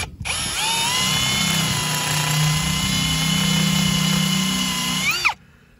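A reamer whines steadily as it enlarges the counterbore of a head stud hole in a BMW M50 cylinder head, one sustained high tool tone for about five seconds before stopping abruptly.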